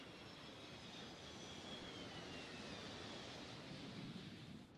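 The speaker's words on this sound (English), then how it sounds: "was that a fucking plane?" A plane passes overhead in a faint, steady wash of broadband engine roar with a thin high whine, distant and unbroken, with no voices.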